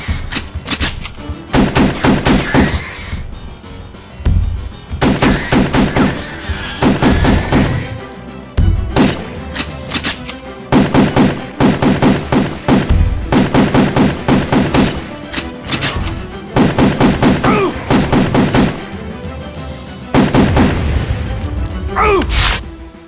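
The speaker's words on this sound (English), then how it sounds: "Shotgun." Repeated shotgun blasts in Turok 2 Remaster, loud, heavy bursts coming in clustered volleys with short pauses between them, along with crashing impacts and a few brief grunts.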